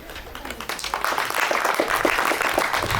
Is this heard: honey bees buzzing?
no